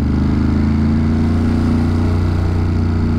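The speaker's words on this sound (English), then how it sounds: "The bike sounds nice." Motorcycle engine droning steadily while riding on a road during a camping and touring trip, a loud, close, continuous hum with a fine rhythmic pulse and no talking.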